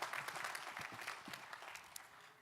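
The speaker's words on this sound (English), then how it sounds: "Let's give a big round of applause." A university business and engineering graduation audience claps in faint, distant applause, a soft, even wash of clapping that tapers slightly over a couple of seconds.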